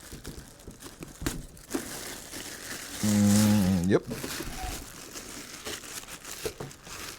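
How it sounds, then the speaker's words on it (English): A plastic bag crinkles and rustles steadily at close range while a welder is unpacked, with a brief low hum partway through and someone speaking briefly. "Plastic bag."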